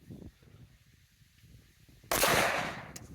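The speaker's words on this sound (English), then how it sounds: "I'm shooting past it." A single loud, sharp report from a Tisas 5.7 pistol cracks out at a shooting range after a quiet stretch, its echo fading over the following second.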